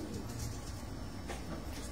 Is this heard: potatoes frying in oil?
no